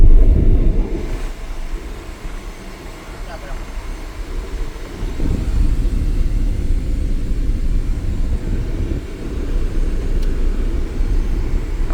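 A black Mahindra Scorpio SUV on a test drive along the road to Khambhala dam near Porbandar gives a steady, loud low rumble of engine and road noise that rises slightly partway through and continues unbroken.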